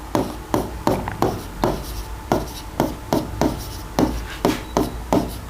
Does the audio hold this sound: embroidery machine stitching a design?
no